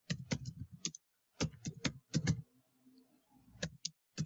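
Quick bursts of clicky keystrokes on a computer keyboard come in short clusters with brief pauses between them, close and clear, with no talking.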